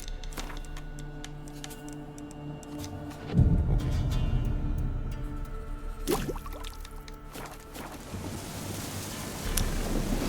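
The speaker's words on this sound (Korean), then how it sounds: "바람 어마하게 부네" Strong wind gusts rumble and roar through trees in The Witcher 3: Wild Hunt, a low, surging storm sound that swells sharply partway through before settling into a steady blow.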